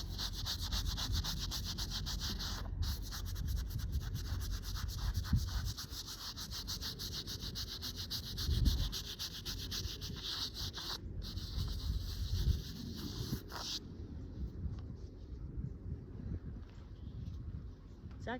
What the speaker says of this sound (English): I'm gonna do one more with the nail scrubber here